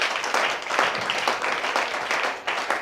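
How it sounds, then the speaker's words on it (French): A church congregation claps and cheers for Jesus during a French-language service, the applause loud, dense and sustained with scattered irregular claps throughout. "Acclamez pour le Seigneur Jésus si vous l'aimez"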